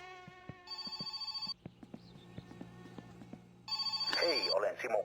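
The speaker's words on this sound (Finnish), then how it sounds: "Ei, puhelin soi." A telephone rings in the video game My Summer Car, its electronic bell coming in two loud bursts with a quieter stretch between them. Someone speaks over parts of the ringing.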